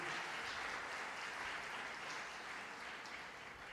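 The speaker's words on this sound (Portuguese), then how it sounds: "Você pode dar um aplauso ao Senhor?" A church congregation applauds together during a worship service, a steady, dense wash of clapping that holds evenly throughout with no voices standing out.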